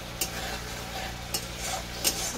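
Masala with chopped green chillies, cooked with mixed fish and no onion or garlic, is stirred and fried in a pan, giving a steady soft sizzle with three sharp scraping stir strokes spaced through it, close and fairly quiet.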